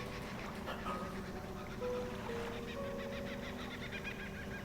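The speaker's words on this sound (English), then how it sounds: "We're gonna have these bird sounds in the background while we do this" Ambient birdsong plays in the background of a fishing video game, with scattered chirps and short whistled tones over a steady, soft wash of game sound.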